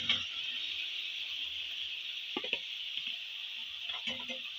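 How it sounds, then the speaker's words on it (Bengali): Potatoes, beans, carrots and eggplant fry together in a pan with a steady, close sizzle, broken by a few brief scraping stirs of a spatula near the middle and end. "বেগুনের টুকরোগুলোও আমি এর মধ্যে অ্যাড করে দেবো আবারও ভালো করে নেড়ে আমি পাঁচ মিনিটের মতন কষিয়ে দেবো"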